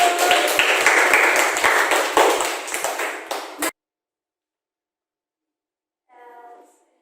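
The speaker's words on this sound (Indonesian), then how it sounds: "Bapak kalian beri tepuk tangan dulu." Students in a classroom give a burst of quick, dense clapping up close that fades out over a few seconds before silence, followed by a brief tonal ping.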